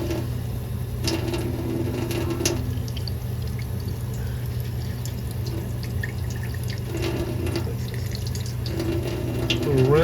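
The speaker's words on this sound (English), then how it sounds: "Just keep rinsing" Water runs steadily while rinsing the spigots of a Nio bean-to-cup coffee machine, a continuous splashing stream with some clatter and faint background noise throughout.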